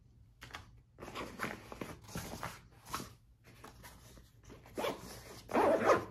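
Pouch zipper on an everyday-carry get-home backpack being worked in a string of short rasping pulls, moderately close, with a louder final pull at the end and no talking.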